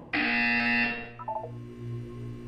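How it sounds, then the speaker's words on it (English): A loud, harsh electronic buzzer in the video game Portal 2 sounds for about a second, then cuts off, leaving a few soft tones and a faint hum. "You will hear a buzzer."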